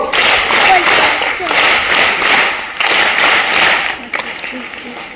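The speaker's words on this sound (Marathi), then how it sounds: "3च्या गटामध्ये आपण 3-3च्या गटात 9 टाळ्या वाजवणार आहोत." Schoolgirls at a morning school assembly clap together in rhythm, in groups of three. The claps come as loud, dense bursts that run through most of the stretch, with a few sharper single claps near the end.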